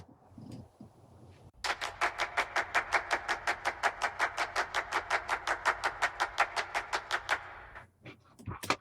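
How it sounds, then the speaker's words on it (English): A rapid run of about thirty evenly spaced hand claps rattles off at the end of a music track, bright and steady over a low background, then stops abruptly. "here's these claps at the end"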